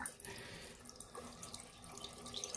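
Tap water runs in a steady close hiss over a rubber watch strap in a sink, with a few soft splashes and drips scattered through, no talking.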